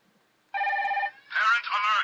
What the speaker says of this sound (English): I'm just going to show you some ringtones I got from my friend and one I just got.